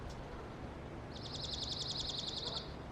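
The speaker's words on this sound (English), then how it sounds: "Just listen to the sounds of the birds and everything here even." A single bird sings a quick rapid trill of repeated high notes near a lake at a Canadian campground, fairly faint against a steady low outdoor hum, lasting about a second and a half.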